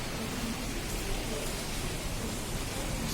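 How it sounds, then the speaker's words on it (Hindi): Heavy rain falls outside a house, a loud, steady, broadband roar that stays constant from start to finish with no voices over it. "ओह माय गॉड, इतनी तेज बारिश हो रही है।"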